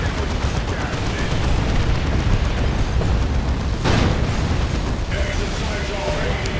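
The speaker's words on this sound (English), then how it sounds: "Demolisher Cannon Shot." A Demolisher Cannon shot explodes amid a Dawn of War II battle, a loud broadband blast near the four-second mark rising over continuous rumbling combat noise and scattered gunfire.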